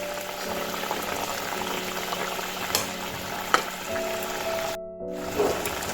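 Gravy with fried eggs boiling in a pot, a steady low bubbling and simmer hiss with a few faint knocks of a utensil and a short break near the end.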